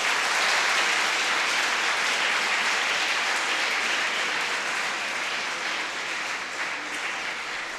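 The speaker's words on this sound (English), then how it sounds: "please join me in giving a big round of applause" Audience applause following a guest lecture on US growth and renewal, a steady dense clapping from a large hall crowd sustained for the full stretch and tapering slightly near the end.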